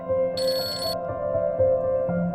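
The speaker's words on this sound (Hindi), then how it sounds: "अस्मा भाजी का फोन है।" A telephone rings indoors in a home setting, a steady electronic ringtone with a bright chiming burst at the start, moderately loud and alone with no talk over it.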